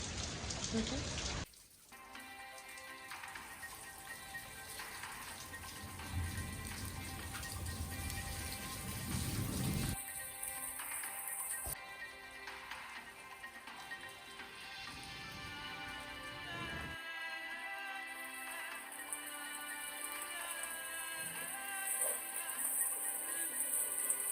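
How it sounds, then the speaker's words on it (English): Steady early-morning rain falls outdoors at night, a dense continuous patter on surfaces that stays close and even throughout with no talking. "3 a.m. and I'm out here harvesting some rainwater for my place"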